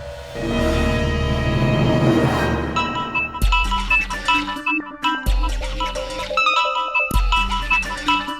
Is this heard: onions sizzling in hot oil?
no